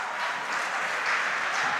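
Loud, dense clapping from an audience cheering a school quiz team at a junior high competition in Ghana, sustained and even for the whole moment with no voices on top.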